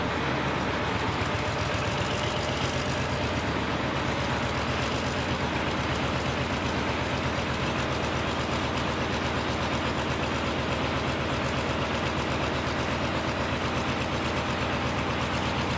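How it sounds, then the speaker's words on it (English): A 1950s Paxman V12 YHAZ four-stroke diesel standby generator engine, naturally aspirated and mechanically injected, running at steady speed with a loud, continuous, dense rumbling drone and no variation throughout. "The Paxman V12 YHAZ is a V12 four-stroke diesel engine built around the mid-1950s"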